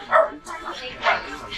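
A dog barks and yips in short bursts, fairly close, amid street noise and background chatter in a city setting.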